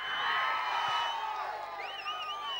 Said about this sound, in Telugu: సో గోపీచంద్ గారు ఆయన ఫ్యాన్స్ అందరూ ఒకసారి క్లాప్స్ కొట్టండి.